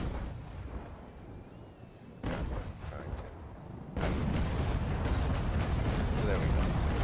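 Cannon fire from a sailing warship in a naval battle game thuds in two bursts, a sharper blast followed by a louder rolling broadside that lingers as a sustained roar.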